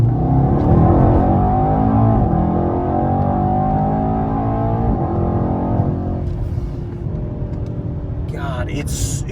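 A Mercedes E63s accelerating onto a highway: a loud, deep engine roar climbs steadily through the gears with brief dips at each shift, then eases off. A voice briefly talks toward the end.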